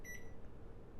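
A brief series of high electronic beeps from a microwave keypad, clear at the start and fading quickly into a low steady hum.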